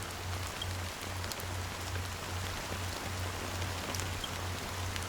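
Steady rain falling in Honkai Star Rail, a dense continuous patter with a low rhythmic pulsing hum beneath, evenly loud throughout with no voices.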